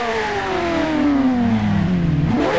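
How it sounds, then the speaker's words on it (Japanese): A Ferrari F8 Tributo engine in the driving game Driving School Sim revs high, then its whining pitch slides steadily downward as it winds down, loud and close. "これがフェラーリのサウンドです。"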